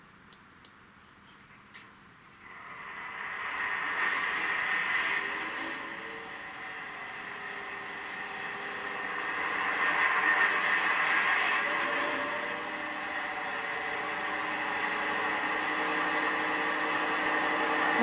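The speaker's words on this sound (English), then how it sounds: "see what she sounds like with the engine going" A small engine of a model Deltic diesel locomotive starts after a few faint clicks and settles into a steady, buzzing mechanical hum that swells slightly and keeps running.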